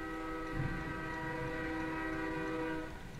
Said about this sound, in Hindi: गाड़ी एक रेल गाड़ी ट्रक को घसीटते हुए ले जा रही है